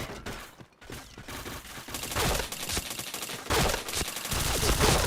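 Video-game gunfire crackles in rapid bursts and sustained automatic volleys, loud and dense, with no talking over it.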